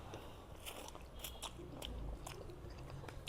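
Noodles made without any sauce being eaten, with crunchy bites and chewing heard close up in a steady series over a low household background.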